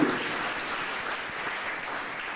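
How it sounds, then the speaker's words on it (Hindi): Audience at a talk clapping continuously, a dense, even wash of many hands at moderate loudness with no voices over it. "आप तालियां बजाइए तो ही बताओ"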